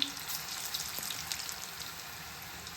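Bottle gourd kofta balls fry in hot oil, giving a soft, steady crackling sizzle with scattered pops, moderately quiet and without talk.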